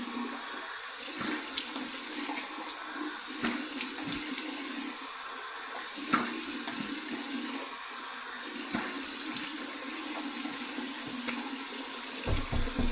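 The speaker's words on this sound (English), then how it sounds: "Cold water, here's my cold water rinse." A tap runs steadily for a cold water rinse after shaving, a continuous soft hiss and splash of water into a sink with small irregular drips, fairly quiet and uninterrupted.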